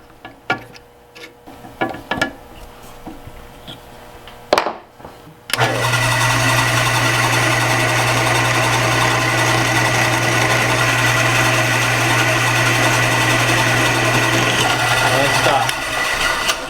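After some clattering and handling noises, a power drill starts and runs steadily at a loud, constant whine for about ten seconds before winding down, drilling a hole with cutting lubricant.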